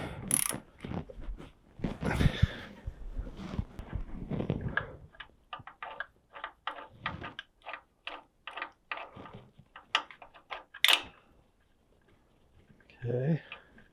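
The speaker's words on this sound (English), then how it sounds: "pull out that last bolt" Hand ratchet clicking as the last transmission bolt is backed out in a garage, quick rhythmic pawl clicks in bursts under a man's intermittent speech and some clanks.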